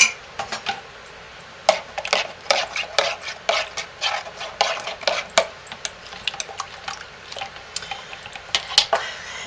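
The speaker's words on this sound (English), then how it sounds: "we're going to stir those up." Turmeric spice and aconite root powder stirred into melted soap base in a small container, a steady run of light clicking and tapping strokes of a utensil against the sides, close and alone with no talk.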